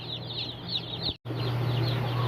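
Many small broiler chicks peep constantly in high, overlapping chirps, close by, over a low steady hum, with a short break partway through.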